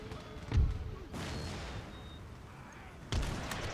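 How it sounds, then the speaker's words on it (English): Cannon artillery firing in Empire: Total War, with two heavy booms a few seconds apart over a low battlefield rumble. "the cannon is firing right down the line"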